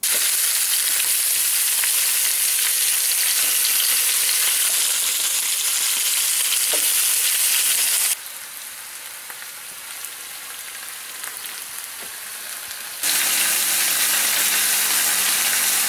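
Chicken pieces sizzle and fry hard in a hot pan, a loud steady crackling hiss that drops to a softer sizzle midway before surging back loud near the end.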